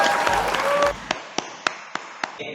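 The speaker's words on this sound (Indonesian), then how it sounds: "Kita aplaus dulu." A class applauds, with a burst of clapping under a chatty, tonal room sound that fades to a handful of distinct, evenly spaced single claps or taps ringing out near and clear.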